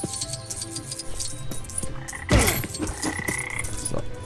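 A frog croaks in the Lego Jurassic World video game, with repeated croaks over a bed of ambient game sound and a sharper burst in the middle.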